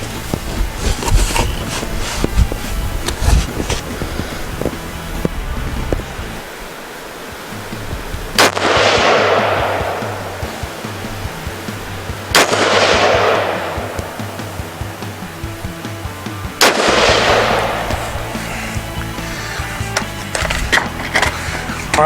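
Rifle shots fired at a range target, three loud sharp cracks spaced several seconds apart, each followed by a rolling echo that fades, over steady outdoor wind noise.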